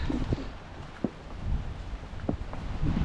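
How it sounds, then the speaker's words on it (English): Rain falls steadily on an outdoor walk, a soft continuous patter broken by several dull low thumps, likely footsteps or gusts, rising slightly toward the end. "It's supposed to rain even harder later today"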